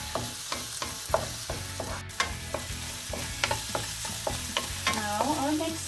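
Onions fry in a pan for chicken tinola, a soft steady sizzle under repeated sharp scrapes and knocks of a utensil stirring against the pan, close and fairly quiet.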